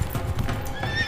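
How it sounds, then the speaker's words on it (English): Wild mustangs on the Great Plains, hooves clip-clopping in a steady galloping rhythm with a sharp whinny breaking through near the end, loud and close with no talk. "400 years later, over 1 million Mustangs run wild."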